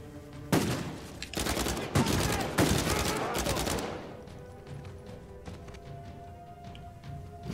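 Uncharted 4 firefight where rapid automatic gunfire rattles in several close, loud bursts over about three seconds, then fades to quieter background noise.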